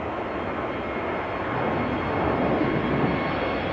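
An Airbus A320neo jet departing Amsterdam Schiphol Airport roars loud and close, a steady broadband engine rumble that swells slightly as it goes, with no talking.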